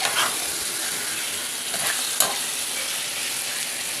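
Chicken for Bengali chicken kosha fries in a pan with a steady loud hiss and sizzle, while a spoon stirs it with a few scraping strokes and one sharp clink.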